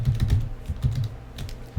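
Typing on a computer keyboard in a Linux Mint setup, with quick, uneven bursts of muffled key clicks close by and no talking.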